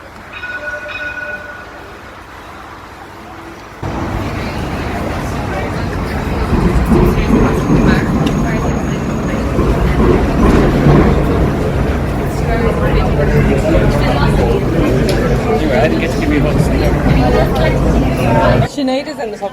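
A busy evening street with buses and trams passing: a loud, sustained rumble of rolling tram and traffic noise swells and holds for most of the stretch, with crowd chatter and voices mixed in.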